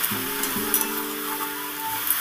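Green papaya fries in a pan for a vegetarian curry, giving a soft, steady sizzle with a low tonal hum underneath and a few faint stirring clicks.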